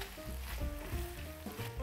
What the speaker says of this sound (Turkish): Artık spatulayı da çalıştırıyorum, dibini iyice kazıyıp.